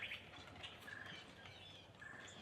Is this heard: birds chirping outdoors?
yes